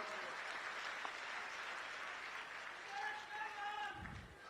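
An outdoor rally crowd in Gurugram applauds, a faint, distant, continuous patter of clapping running steadily with a brief voice near the end.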